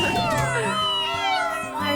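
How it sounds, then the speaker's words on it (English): Cartoon kittens meow in high, sliding cries that overlap continuously, with animated voices mixed in over the whole stretch. "They're Titi's adorable little kittens"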